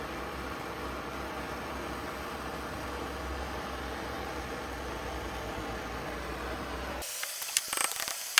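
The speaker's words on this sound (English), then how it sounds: "we're gonna go ahead and heat this up so that we can get it to expand" Torch flame heating a part on a Volkswagen engine being built into an air compressor, a steady close roaring hiss that runs continuously, then cuts off, leaving a few faint clicks and taps.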